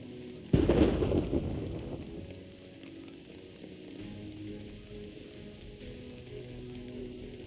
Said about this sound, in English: What kind of storm is this?